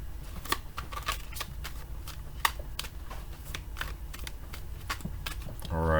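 Tarot cards are shuffled in a quick, irregular run of soft flicks and snaps, faint and close, with a louder riffle near the end.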